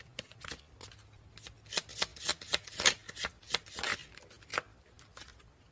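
Tarot cards shuffled by hand in a quick series of crisp, close riffles and slaps that build to a louder flurry in the middle, then taper off.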